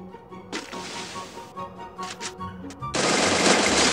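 AK47 gunfire in the mobile shooter game Free Fire, sharp rapid bursts of shots with brief gaps, ending in a dense loud volley.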